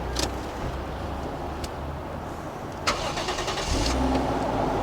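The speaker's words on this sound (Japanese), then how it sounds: "エンジンかけちゃいますね。" A Toyota Mark II Tourer V JZX100 with a stock engine and about 80,000 km is cranked and started, a short whir followed by the engine catching and settling into a steady idle rumble, heard close.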